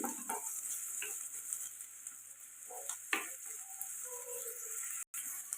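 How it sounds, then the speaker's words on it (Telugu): Onions frying in a pan for a chicken fry, a soft steady sizzle with occasional stirring scrapes and light clinks, close and fairly quiet, with no talking. "ఉల్లిపాయలు ఫ్రై అవ్వాలి"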